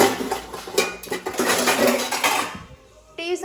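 Washed metal vessels and pots clatter and clink as they are handled and set down, with a busy run of overlapping metallic knocks and scrapes, then a brief lull before a final ringing clang.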